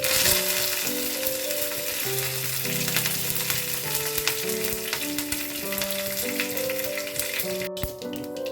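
Dry red chillies and curry leaves sizzle in hot oil with mustard seeds, a steady, continuous frying hiss running throughout under background music.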